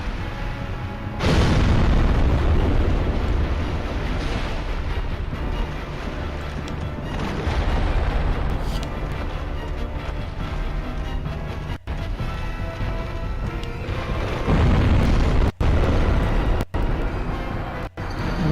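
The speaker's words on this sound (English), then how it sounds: "I got completely away from the explosion that he does, you know, at the long distance." A boss's explosion in the video game Dark Souls hits as a sudden heavy boom that gives way to sustained loud rumbling debris, then several sharp brief dropouts and thumps toward the end.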